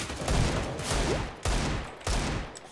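Bursts of rapid gunfire in CS:GO on the old Dust 2 map, several volleys in quick succession with short gaps between them, loud and close.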